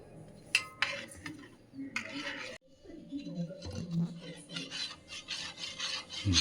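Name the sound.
mixing flour batter by hand while oil heats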